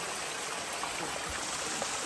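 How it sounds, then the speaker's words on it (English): Water running down a mountain trail on the Appalachian Trail near Ethan Pond, a steady close broadband rush and trickle, even and continuous with no talk. "All this water running down."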